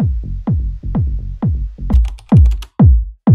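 A deep, booming Latin house bass with a punchy kick drum, hitting in a steady four-on-the-floor pulse with bright percussive accents layered on top.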